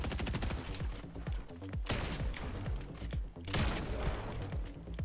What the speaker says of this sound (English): He realizes I can keep shooting his feet.